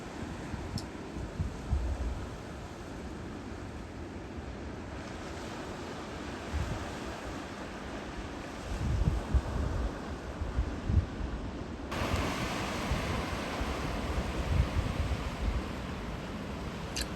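Surf washes steadily against the rocks of a quiet beach cove, a soft continuous roar with gentle swells and some wind noise.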